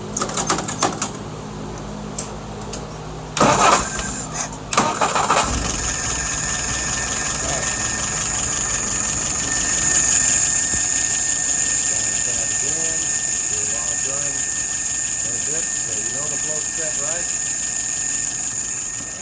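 An engine is started after an under-hood inspection for leaks and settles into a steady idle at about 640 RPM, with clattering handling noises before a continuous, even drone.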